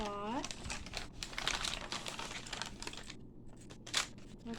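Small bag from a Hallmark store being opened, with crisp plastic crinkling and rustling throughout, faint and close, plus a person's voice heard briefly at the start.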